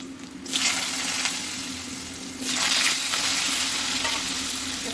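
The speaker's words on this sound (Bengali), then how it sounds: "এর মধ্যে এখন আমি একটু সামান্য নুন দিয়ে দেবো আলুগুলো ভেজে নেবো" Salted potatoes fry in a pan with a steady hiss and sizzle. The sizzle swells louder twice as the potatoes are disturbed, and there is no talk.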